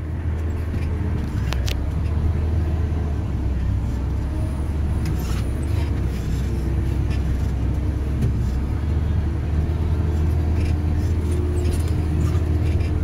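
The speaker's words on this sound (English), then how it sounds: "we're in a JCB digger and Mari's driving this one" A JCB digger engine running at a Diggerland theme park, a steady low diesel drone heard from inside the cab, constant and loud throughout with faint rattles on top.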